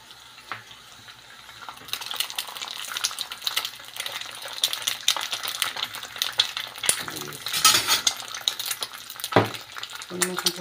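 An egg fries on a tortilla in a hot pan, with oil crackling and sizzling as a spoon scrapes and ladles it over the edges in bursts of spitting sizzle.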